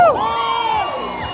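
A crowd at a raffle draw for a 10,000-peso prize erupting in loud shouts and cheers to win, a sudden burst of overlapping voices that tapers off over about a second.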